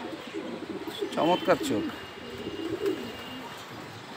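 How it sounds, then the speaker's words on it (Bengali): A female racing homer pigeon coos close by in a short rolling burst, with fainter soft coos later, while people talk over and around the calls. "এটা কি মাদি কবুতর না?"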